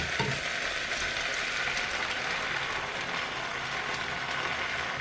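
Chopped tomatoes sizzle in a hot pan on a turned-down hob, a dense, steady crackle and hiss at close range with faint stirring scrapes, no voices.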